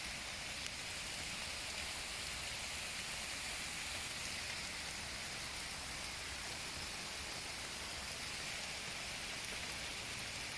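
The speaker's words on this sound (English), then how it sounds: "So I just arrived on top and it's pouring rain." Heavy pouring rain on a mountain top, a dense, constant hiss of falling water that stays steady and loud throughout with no talking.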